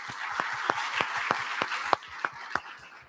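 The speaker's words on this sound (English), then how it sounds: "So I actually want to give you guys a round of applause for that." A small audience at a tech cohort demo day applauds, with a soft bed of clapping punctuated by several sharp, distinct claps spaced roughly every third of a second, fairly close and moderately quiet.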